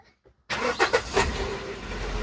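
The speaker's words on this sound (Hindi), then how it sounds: "गाड़ी स्टार्ट करने के लिए सबसे पहले गाड़ी को हमने" A car engine cranks and catches after a quiet moment, then settles into a steady idle with a few sharp bursts as it fires up, close and loud with no talking over it.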